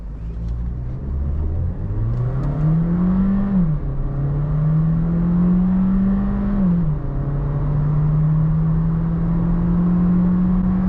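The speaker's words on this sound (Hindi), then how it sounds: "Volkswagen Virtus 0 to 100" Volkswagen Virtus car accelerating hard from 0 to 100, its engine note climbing steadily and dropping twice at upshifts before rising again, loud and continuous with no talking.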